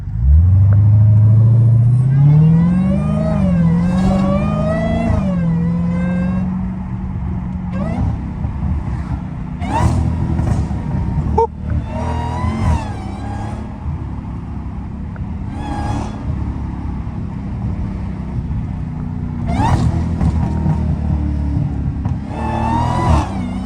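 A Dodge Challenger SRT Hellcat engine revs loudly from inside the car, a deep rising roar at the start that settles into a steady rumbling drone, with a few brief spoken moments over it.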